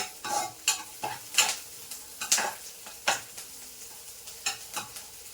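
Onion, tomato and green chili are stir-fried for upma, with a soft background sizzle under repeated distinct spoon scrapes and knocks against the pan in an uneven rhythm.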